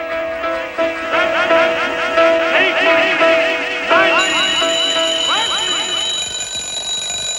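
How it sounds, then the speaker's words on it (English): An alarm clock ringing loudly amid busy overlapping music in a studio recording, with a bright sustained tone entering partway through. "he set off an alarm clock at the end of it"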